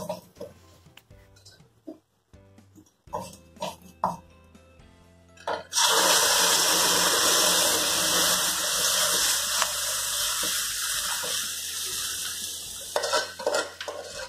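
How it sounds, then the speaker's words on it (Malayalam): Water poured into a pot of sambar on the stove, preceded by clinks of utensils against the vessel, then a steady rushing pour that runs for several seconds, with a person talking intermittently over the kitchen sounds. "ഒരിച്ചിരി ആവശ്യത്തിന് വെള്ളം ഒഴിച്ചിട്ട്"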